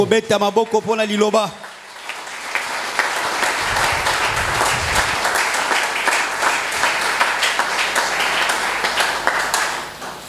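A church congregation bursts into sustained applause and cheering, a dense loud wash of clapping lasting several seconds after a preacher's spoken words.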